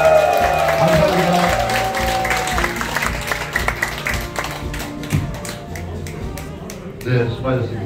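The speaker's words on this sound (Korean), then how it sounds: "여러분들 정말 함성과 함께 뜨거운 박수로 다시 한번 격려해 주십시오." Audience applause at an elementary school alumni association's regular general meeting, with scattered claps and crowd noise that grows busier toward the end, heard under a voice speaking over a public address system.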